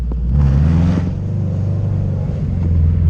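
A deep, loud exhaust rumble from a 380 WHP Subaru WRX STI engine at night, holding steady and throaty with slight throttle swells throughout.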